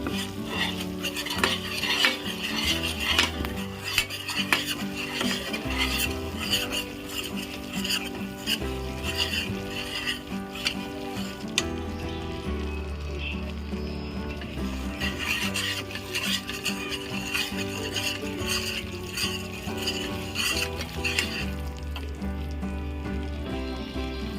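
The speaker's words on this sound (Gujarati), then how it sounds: "આ રીતના આપણે હલાવી નાખવાનું છે।" A spoon scrapes and stirs an oil-based sukhdi mixture in a pan, with continuous rhythmic rasping strokes and a soft sizzle, close and steady throughout with no talking.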